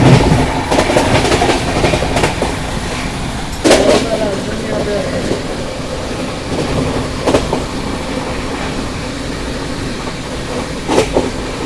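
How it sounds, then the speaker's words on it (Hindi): A passing train on an Indian rail line, heard from aboard another train as the Sealdah–New Delhi Rajdhani Express approaches, a continuous rumble with clickety-clack wheel beats and sharper rattling bursts throughout, close and loud. "अभी सामने से ये आ रही है सियालदा नई दिल्ली राजधानी एक्सप्रेस"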